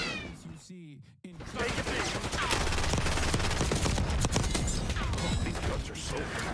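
Dense, rapid gunfire rattles on in Call of Duty: Black Ops 6 after a brief mewing cry and short silence, loud bursts of automatic shots overlapping with clanks and mechanical effects.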